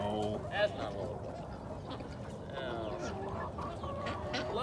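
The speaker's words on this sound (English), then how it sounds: "Lots of chickens here today." Chickens and ducks cluck and quack in a busy barnyard chorus, steady and fairly close, with a person talking faintly underneath.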